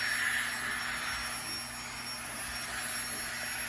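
Small electric air pump inflating a backpacking sleeping pad, a steady continuous whirring hiss with no breaks, close by and fairly loud throughout.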